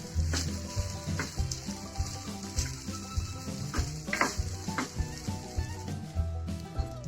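Sabudana khichdi (sago) being stirred in a pan, a steady close sizzle broken by repeated scraping and clinking of the spoon against the pan.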